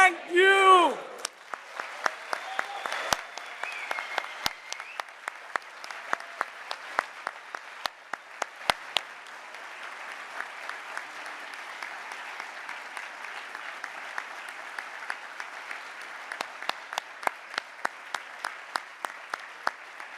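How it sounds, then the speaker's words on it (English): After a brief shout, a large audience of MBA students bursts into sustained applause that lasts a long while, with many sharp individual claps standing out across the dense clapping. "we give each other the loudest round of applause that we've given this year"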